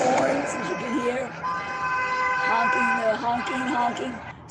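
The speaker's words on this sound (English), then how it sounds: "honking horns, as you can hear" Several car horns honk over one another on a Jerusalem street, with long sustained blasts and shorter toots amid street noise and voices.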